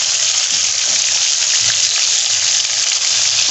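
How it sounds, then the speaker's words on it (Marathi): Fish fries in a pan coated with semolina, a loud, continuous, close-up sizzle with a dense hiss and a faint low bubbling underneath. "हे बघा छान असा फ्राय व्हायला लागला आहे तो मासा"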